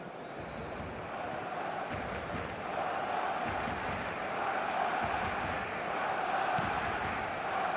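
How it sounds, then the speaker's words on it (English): Stadium crowd noise from an eFootball match, a steady broad roar that swells slightly midway and holds for several seconds, with no clear talk over it. "Yeah, the crowd have tried to spark some excitement, but to no avail."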